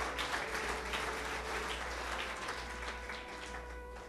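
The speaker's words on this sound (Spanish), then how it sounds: "¿Cuántos aplauden al Señor?" A church congregation applauding, broad steady clapping that gradually thins out near the end, with a faint low hum underneath and no talk.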